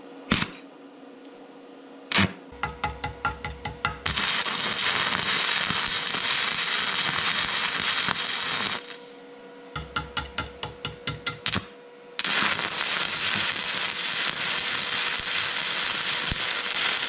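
Stick welding arc struck with a Vevor MIG-250 welder, starting with bursts of sharp pops and then settling into a loud, steady crackling sizzle. The arc breaks off briefly partway through and then catches again, close and with no talking.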